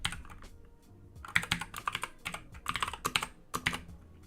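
Close, quiet keystrokes on a computer keyboard come in irregular bursts of clicks with short pauses between, and no one speaks.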